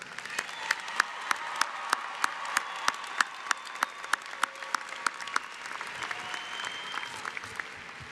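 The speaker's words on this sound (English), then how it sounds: "Ladies and gentlemen in the audience, please join me in applauding these superstars." A commencement audience applauds the graduates with sustained clapping from a large crowd. One nearby pair of hands claps in a sharp, regular beat that stands out above the steady wash of applause.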